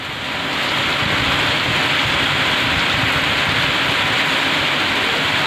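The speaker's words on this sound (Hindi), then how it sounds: "पूरा लगातार बारिश, जोरदार बारिश बारिश और बारिश" Heavy, continuous rain at a mining work camp, a loud, dense and unbroken downpour hiss that stays steady throughout, with no voices.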